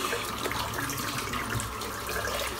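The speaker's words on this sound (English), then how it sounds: "Just rinse the other brush out now." A running tap splashes steadily as a shaving brush is rinsed under it, an even close wash of water noise with no break.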